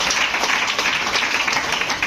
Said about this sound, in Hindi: एक जोरदार ताली होनी चाहिए उनके लिए।